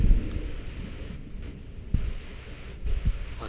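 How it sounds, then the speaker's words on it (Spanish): Rain and rolling thunder in the horror game Layers of Fear: a soft, constant patter of rain with low, muffled thunder thumps, a few rumbling bursts rising and falling. "La lluvia de nuevo."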